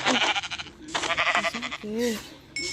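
Sheep in the Minecraft video game bleating several times in quick succession, short wavering calls close by and fairly loud, with another voice-like bleat near the end.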